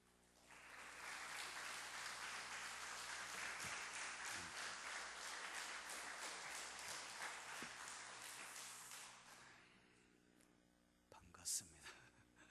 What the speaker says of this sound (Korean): 우리 목사님 나오실 때 한번 박수로 이렇게 맞이해 주시기 바랍니다